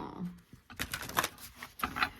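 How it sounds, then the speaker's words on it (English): Tarot cards are shuffled in several quick papery bursts, riffling and slapping at close range, with soft background sounds between them. "Okay, one more shuffle."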